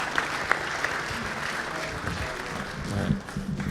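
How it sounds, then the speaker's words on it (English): Audience at a water forum applauding, a moderate patter of clapping from a modest crowd that swells slightly toward the end. "So panel, one person applauded for you, Brock"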